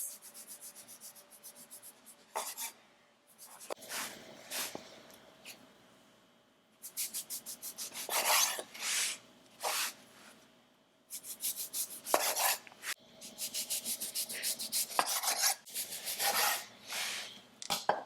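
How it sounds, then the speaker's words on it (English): Honey bread dough divided into twelve equal pieces on a lightly floured work surface, heard as intermittent bursts of scraping and chopping, close and fairly quiet, separated by brief pauses, with no talking. "divide the dough into 12 equal pieces"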